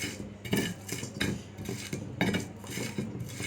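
A utensil mixing roasted mango mash with onion, chili and garlic in a bowl, with repeated scraping and clinking strokes in a steady rhythm, close and fairly loud, with no talking.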